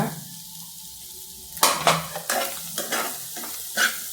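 Mutton lung fry in a pan on a high flame, with a soft sizzle, then a run of sharp metal spatula scrapes and clinks against the pan as it is stirred, close up and without talking.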